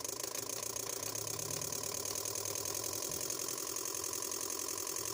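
A Toyota Altis engine running with injector number 3 switched off, a steady, even mechanical hum with a fine rapid ticking throughout, heard close and constant without any clear rise.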